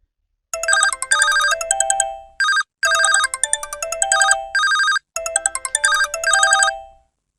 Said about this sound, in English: Other people's cell phone 2 ringtones.